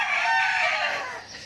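Red roosters crow loud and close, one long sustained cock-a-doodle-doo that fades slightly toward the end, with no talk over it.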